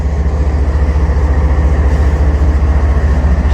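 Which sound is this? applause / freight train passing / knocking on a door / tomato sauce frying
freight train passing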